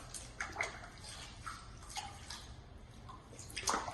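Water runs and splashes at a salon shampoo bowl while hair is rinsed after a Liscio Japanese straightening treatment, a steady close wash of spray with small sloshing bursts throughout.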